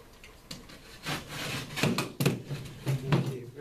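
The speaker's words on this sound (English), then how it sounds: "just take the drywall, snap it back, and then cut it from the back side with your blade" Drywall is snapped back and cut from the back side with a blade: several short, dry scraping and cracking bursts, close and fairly loud, with quiet gaps between them.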